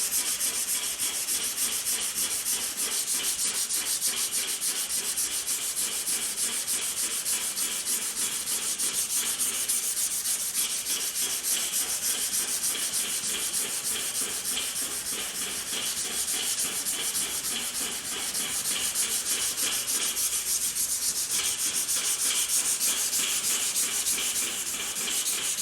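A standard Ford Falcon 500 fender being reshaped into an XA Falcon GT fender is sanded by hand, a steady, continuous rubbing rasp that runs close and unbroken, alone with no talk.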